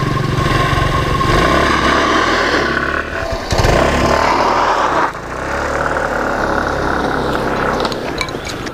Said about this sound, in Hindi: और अभी आपको इसका पिकअप चेक करके दिखाता हूँ।